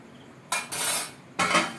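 A metal lid is set onto a cooking pot of potatoes for alu posto, making two quick clanking clatters close by, with no talking.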